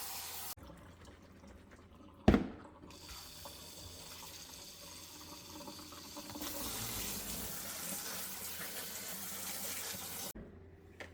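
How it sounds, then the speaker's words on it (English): Cold tap water runs steadily over raspberries being rinsed at a sink, a broadband rushing stream with a sharp clatter near the start, continuing for several seconds before cutting off near the end. "I'm just going to use cold water here and give them a good rinse."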